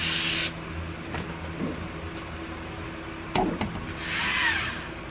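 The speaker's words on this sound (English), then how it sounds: "I wonder if I should spray this or just this." Short hissing bursts from an aerosol spray can, a strong spray at the start and a softer one near the end, separated by quiet handling noises and light rubbing.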